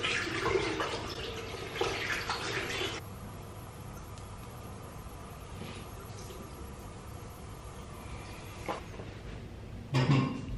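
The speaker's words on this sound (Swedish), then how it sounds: "Nu duschar vi oss." A home shower runs water in a steady, fairly quiet hiss that fills the whole stretch, with brief louder splashes near the start and end.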